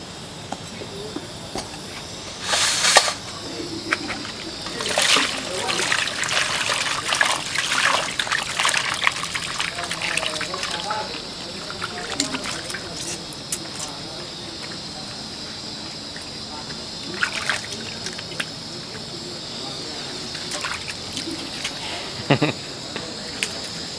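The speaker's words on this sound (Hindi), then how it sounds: "अब हमने इसको धो लेना है पानी के साथ।" Running water splashes and trickles over paya (goat trotters) as they are rinsed by hand, continuous close splashing with bursts of louder gushing and intermittent clatter, no talking.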